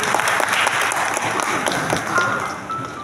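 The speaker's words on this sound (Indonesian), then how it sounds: "Tepuk tangan untuk guru saya." An audience at a decoration, interior and architecture exhibition applauds their teacher, a short burst of steady crowd clapping that gradually softens toward the end.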